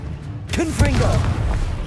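A Confringo spell blast in the Hogwarts Legacy video game, a single muffled boom and rumble that swells and then trails off, with voices talking over it.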